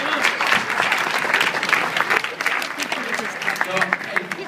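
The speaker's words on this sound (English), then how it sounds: "Give yourselves a round of applause." An audience bursts into a round of applause, a close, lively patter of many hands clapping, with a voice or two mixed in.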